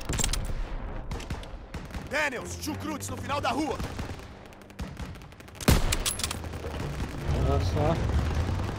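Sniper and other gunfire in Call of Duty WWII during a fortress mission to take a church, with sharp repeated shots and rattling bursts mixed with game music while someone talks over it.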